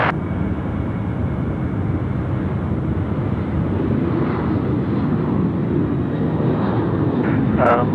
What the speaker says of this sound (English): the first of 3 A380 movements out tonight